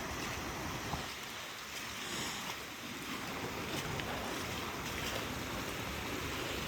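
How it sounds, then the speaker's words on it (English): Steady rushing of a small creek swollen by rain, broad and continuous water noise with no pauses, fairly close and loud throughout. "This is normally just a tiny little creek, and this rain has drastically pushed up the water levels."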